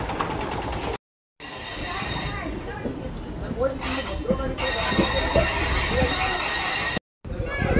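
A local train on the Howrah to Digha line runs toward Digha with a steady rolling rumble and rhythmic wheel clatter, close and loud, cut by two brief dropouts.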